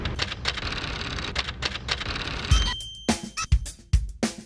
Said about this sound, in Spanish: hago dibujos en una máquina de escribir